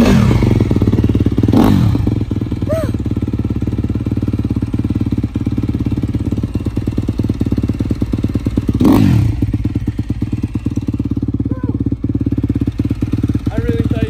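A 2019 Honda CRF250R dirt bike runs close by, its engine idling with a rapid popping beat and blipped twice into sharp revs, while people talk over it.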